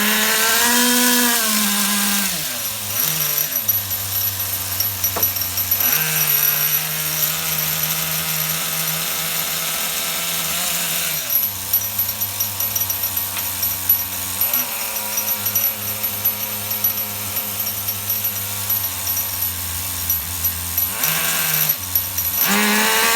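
Small HPI RS4 nitro F150 RC truck engine running rich on the bench, a loud continuous buzzing whine that bogs and drops in pitch several times as it floods, then revs back up.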